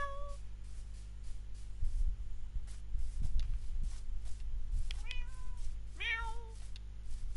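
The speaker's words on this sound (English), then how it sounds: "Why am I missing two cats?" Cats meowing in the video game Minecraft, several short, clear mews over a low steady game hum, with two more distinct meows toward the end.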